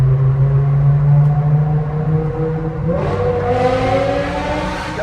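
A 15-year-old BMW's engine hums and climbs in pitch as the car accelerates, a steady close drone that shifts gear midway and keeps rising, with no talk.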